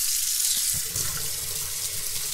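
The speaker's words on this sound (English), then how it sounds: "use warm water, not super hot, but warm water" Warm water running steadily from a tap into a sink for cleaning polishing pads, a constant close hiss and splash with no talk.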